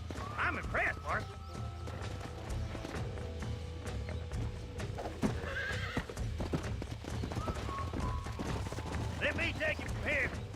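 Horse hooves clip-clop in a Red Dead Redemption gameplay scene, mixed with several bright whinnies and neighs near the start and end, under game music and ambient effects.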